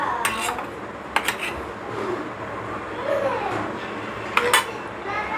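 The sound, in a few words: mixing stuffing with lemon juice in a bowl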